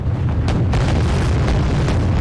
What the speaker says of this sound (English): More of their missiles are being cut down.